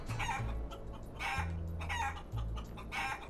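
Chickens clucking and a rooster crowing in a maze level of the video game Guacamelee, several overlapping cartoonish clucks and calls repeating in quick bursts, loud and close.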